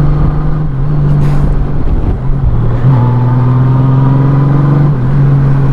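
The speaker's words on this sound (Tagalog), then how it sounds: "Grabe yung ugong ng makina" Engine of a Honda Goldwing 1833cc motorcycle droning steadily while riding, a loud continuous hum with slight shifts in pitch, close and alone with no talk.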